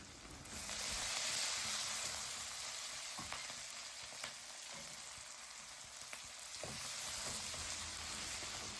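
Chopped onion and whole peeled garlic cloves frying in a pot for mutton hareesa, a steady close sizzle with occasional light stirring clinks, no talking.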